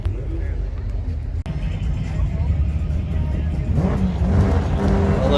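Supercharged Mazda RX-7 engine running, a steady low rumble with a slight rise in revs near the end, under nearby talk and outdoor background noise.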